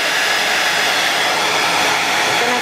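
Close, loud hairdryer airflow drying watercolour paint in an art journal, a continuous roaring whoosh that stays level for the whole stretch with no talking.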